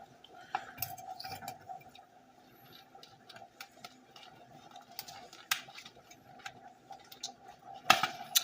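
A pot of water boils with eggs in it for boiling, giving faint bubbling and scattered light clicks and rattles against the pot, close and quiet, with a sharper clatter near the end.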